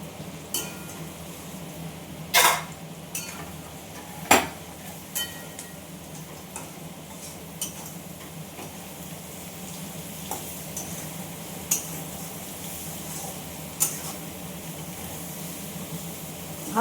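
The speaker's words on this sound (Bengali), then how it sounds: "ভালো করে এই মশলাটার সঙ্গে সবজিটা ভালো করে নেড়ে চেড়ে ভাজা ভাজা করে নেব" Mixed vegetables stir-fried in a pan with Yippee masala, giving a low continuous sizzle broken by irregular sharp taps and scrapes of a spatula against the pan.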